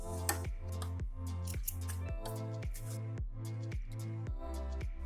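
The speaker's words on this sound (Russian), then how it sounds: "Все нитки я сразу обрезаю, чтобы было чистенько, аккуратно." Scissors trim loose sewing threads on a handmade winter baby swaddle envelope, heard as a rapid, regular series of crisp snips over a steady background hum, close and without talking.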